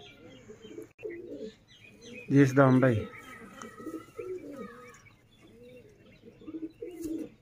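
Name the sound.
pigeons cooing at a Sialkot pigeon loft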